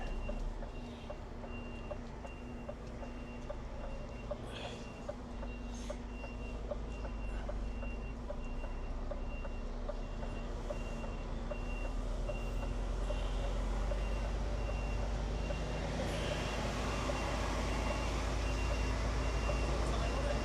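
A delivery truck reverses on a high street, its steady repeating backup beeps sounding over a constant engine rumble and street noise for the whole stretch, with no talking.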